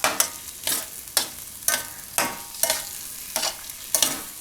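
Paneer bhurji fried rice being stirred in a hot pan, with about nine rhythmic scraping strokes of a spatula over a light sizzle.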